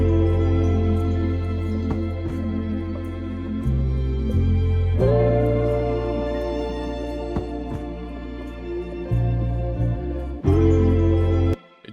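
Warm analog chords from a Prophet synthesizer play as a looped progression, with sustained layered tones changing every couple of seconds and deep bass notes shifting beneath them, ending abruptly.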